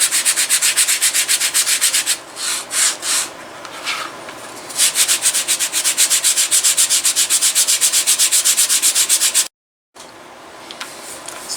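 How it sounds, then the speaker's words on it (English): 220-grit sandpaper rubs briskly over leather in fast, steady back-and-forth strokes, loud and close, pausing briefly twice before resuming, with a short gap of silence near the end. "I can sand it, basically sand all of it down"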